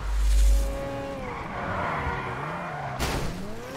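In GTA V, a motorcycle engine's pitch winds down as tires squeal through a skid, then a sharp burst of engine noise follows.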